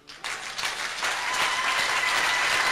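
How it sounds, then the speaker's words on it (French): A church congregation bursts into applause after a brief quiet start, the clapping swelling quickly into a dense, sustained roar of many hands. "Si Dieu te bénit, acclame Dieu."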